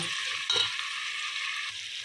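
Sambar powder stirred into a hot frying pan makes a steady, close sizzle with a brief scrape of the spoon near the start, and no voices.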